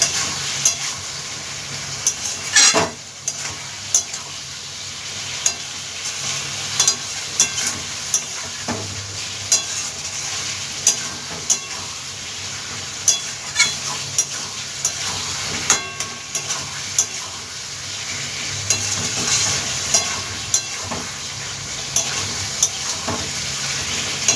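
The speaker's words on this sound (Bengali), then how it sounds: "দিয়ে কষিয়ে নেব ভালোভাবে মশলাটা" Spice paste for a rohu carp curry fries with a steady hissing sizzle in a pan, broken by repeated clicks and scrapes of a spatula stirring it, with no voices.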